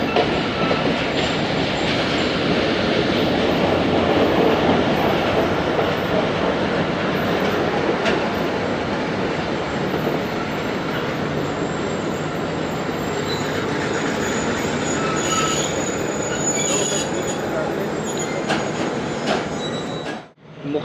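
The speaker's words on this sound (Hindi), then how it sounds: "ट्रेन रवाना हो चुकी है लाला मूसा से" The Jaffar Express runs steadily between Peshawar Cantt and Lahore, a loud continuous roar of wheels on rails with rhythmic clatter and thin metallic squeals rising now and then, heard from inside the carriage until a brief dip at the end.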